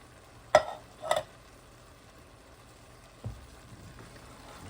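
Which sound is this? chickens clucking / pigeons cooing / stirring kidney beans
stirring kidney beans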